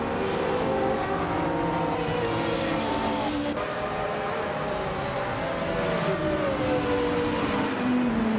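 Race cars racing in a video game, including a 1982 Lancia LC1 Honda, with engines whining and shifting pitch as they pass, a continuous loud drone throughout.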